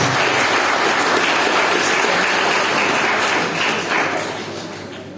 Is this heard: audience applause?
yes